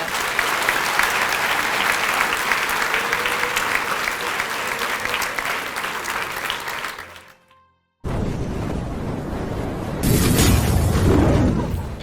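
A school hall audience gives steady, loud applause at a Grade 8 blazer ceremony. The clapping cuts out briefly, then returns and swells toward the end.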